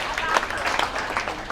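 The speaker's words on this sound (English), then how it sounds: "If you are blessed, please clap." An audience claps in a steady, dense wash of applause that fills the room, with occasional voices blending in.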